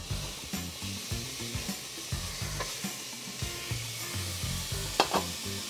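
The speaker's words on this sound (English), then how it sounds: "We want to make sure we use bacon to render." Three slices of bacon sizzle and render in a pan over medium-high heat, a steady soft crackle and fizz with occasional stirring scrapes and no talking.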